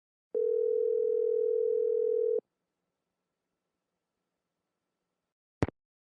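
Steady telephone dial tone in the Nancy Drew video game Secret of the Scarlet Hand, a single clean hum lasting about two seconds, then silence broken by one sharp click.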